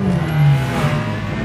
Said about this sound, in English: It sounds like a rotary engine.